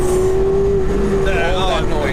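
A Porsche Carrera GT's 5.7-liter V10 of 612 horsepower, a Le Mans-derived engine, holds a steady loud drone with a rising tone near the end, heard close up under someone talking.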